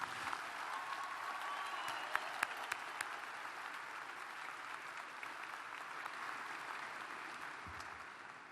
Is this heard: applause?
yes